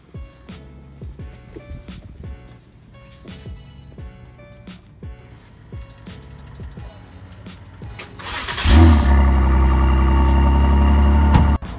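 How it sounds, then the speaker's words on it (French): An Aston Martin DBS Superleggera fires up and roars loudly in the last few seconds after a stretch of quieter clicks and mechanical noises, then holds a strong, full engine note. "ce soir on se retrouve avec cette sublime DBS Superleggera"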